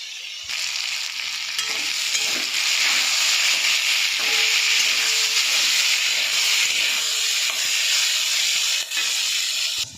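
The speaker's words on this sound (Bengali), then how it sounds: "আর এখানে এই যে বিনস আলু ভাজা করছি" Beans and potatoes frying in a pan after being coated with salt and turmeric, a loud continuous sizzle and hiss with occasional stirring scrapes, no talking.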